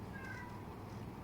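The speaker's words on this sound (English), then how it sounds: "Guys, I apologize for my cat, Chai." A cat meows faintly over a steady background hum, drawn-out and whiny, with no talking.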